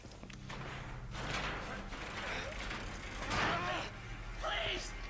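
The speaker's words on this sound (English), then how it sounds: "And I realise, of course, this shutter's moving." Metal shutter grinding and creaking as it moves in Resident Evil 2 Remake, a rattling mechanical scrape running under game ambience and a voice for several seconds.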